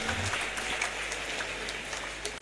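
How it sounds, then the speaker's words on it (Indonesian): An audience at a university gathering applauds students with a steady crowd clapping wash, fairly close and even throughout, ending abruptly. "Tepuk tangan untuk mahasiswa UMP."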